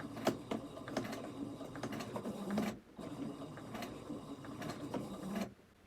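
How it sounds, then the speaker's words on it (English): A sewing machine stitching fabric for a quilt block, producing a quick, even mechanical whirr and clatter close by. It runs in two bursts separated by a short pause and stops at the end. "I'm going to hold my threads to the right, lower my presser foot, and make sure my guide is going along where I want it to be."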